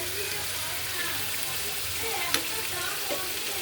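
Fried onions and green chillies hit boiled masoor dal with a continuous close sizzle, a brief crackle and scrape near the end.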